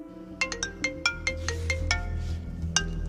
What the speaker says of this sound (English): On a scratchy phone line from behind bars, it's the accused calling, Daniel Holtzclaw.